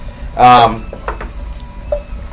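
Garlic sizzles in a hot pan while Chinese-style restaurant chicken broccoli is cooked, with a sharp burst of frying hiss near the start followed by quieter crackling and a few light stirring sounds.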